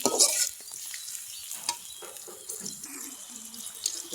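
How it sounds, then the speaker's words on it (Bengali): Chilies and onions frying in a pan for a fish and bathua greens curry, giving a steady soft sizzle with light scraping and stirring, plus a brief louder burst at the start; no talking. "এখানে আমি ঝাল আর পেঁয়াজগুলো ভালোভাবে ভাজা নিচ্ছি।"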